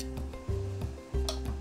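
A gas burner is lit under a pot of water with dried baby sardines: a few sharp igniter ticks, then low whooshing surges as the flame catches. The sounds are close and heard alone.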